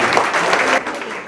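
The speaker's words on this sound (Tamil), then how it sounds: "ஒரு மிகப்பெரிய கைத்தட்டலை வில்லுப்பாட்டு குழுவினருக்கு நாம் கொடுக்க வேண்டிய அவசியம் இருக்கிறது" An audience at a Tamil association's Pongal celebration claps for a villupattu troupe in a brief, loud, dense burst of applause.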